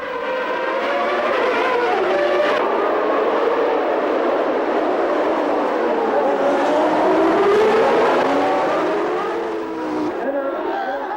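Formula One race cars, McLaren and Ferrari, starting a race, a loud dense roar of many engines screaming and rising in pitch together as the pack pulls away, sustained throughout.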